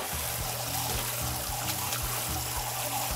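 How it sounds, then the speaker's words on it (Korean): Cold water runs steadily over bean sprouts being rinsed, a continuous close trickle and splash with no voices. "이렇게 콩나물을 최대한 차가운 물에 헹궈주세요"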